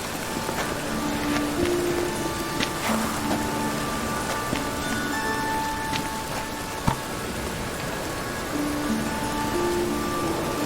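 Steady rain falls in a constant, even hiss with no break, and a few faint tones float softly in the background.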